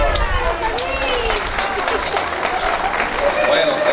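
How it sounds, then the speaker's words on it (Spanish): Crowd applause for Santiago at an outdoor pilgrimage gathering on Tenerife, thick steady clapping with cheering voices mixed in throughout. "Un aplauso a Santiago."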